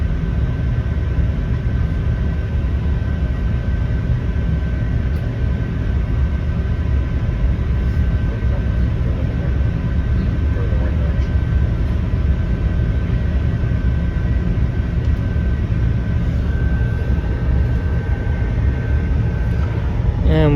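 A train pulls out of Bristol Temple Meads station with a steady, loud low rumble of engine and wheels, a faint tonal whine running through it and a voice speaking over the noise.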